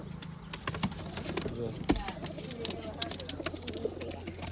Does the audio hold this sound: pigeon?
yes